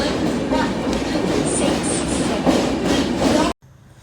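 Inside a moving passenger train between Salem and Dharmapuri, a steady loud rumble of wheels on track with a faint rhythmic clatter, running continuously before cutting off abruptly near the end.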